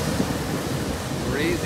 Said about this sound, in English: Now we're at the actual lock where the water is pouring in